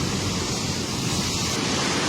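Abnormal tidal waves surge onto the coast of the Antofagasta region in Chile, heard as a steady, dense roar of surf and rushing water with wind buffeting the microphone, loud and continuous, no talk.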